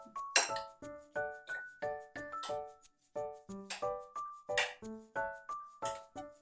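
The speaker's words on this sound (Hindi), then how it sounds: "अब हम इसे मिक्स कर लेंगे।" A spoon stirs salt into a bowl mixture for chicken biryani, ringing out in repeated bright clinks against the bowl in a steady, fairly regular rhythm, close and clear with no talk.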